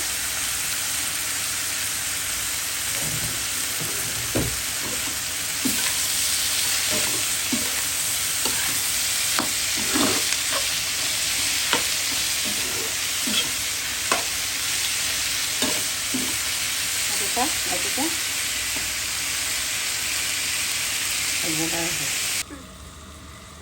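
Bitter gourd and whole chillies frying in hot oil in a pot, a steady sizzle broken by irregular stirring scrapes and clacks through most of the clip, fading to quieter sizzling at the end.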